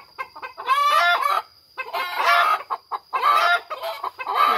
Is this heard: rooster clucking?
yes